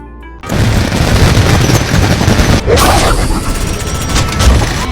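Heavy gunfire erupts in an action movie scene, a loud sustained barrage of booming shots and bursts that starts abruptly after a brief quiet moment and continues densely to the end.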